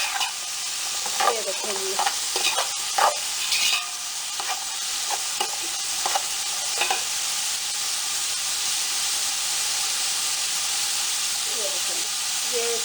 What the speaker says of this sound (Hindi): तेज आंच में आपने जो सारी सब्जियों को फ्राई करना है अच्छी तरह से